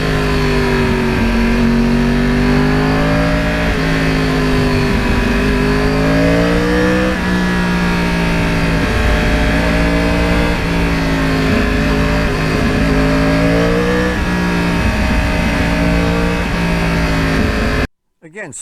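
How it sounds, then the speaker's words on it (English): A 2009 Yamaha R1 crossplane engine runs loud and close for a long stretch, its throbbing tone rising and falling with throttle before cutting off abruptly at the end. "But no matter what exhaust you have, I love the sound of the crossplane."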